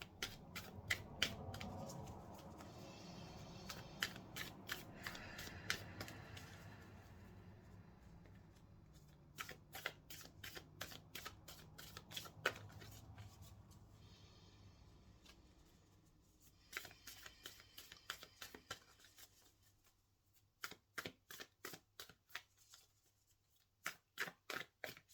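Oracle cards are shuffled by hand in repeated bursts of quick riffling flutters and soft slaps, close and quiet, with short pauses between rounds.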